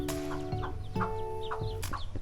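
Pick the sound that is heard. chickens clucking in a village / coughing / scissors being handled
chickens clucking in a village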